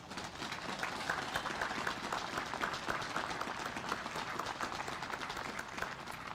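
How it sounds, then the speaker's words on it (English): An outdoor crowd at a Navy ship commissioning ceremony in a lakeside veterans park applauds steadily, a faint, even wash of many hands clapping throughout. "How about a round of applause for our Navy?"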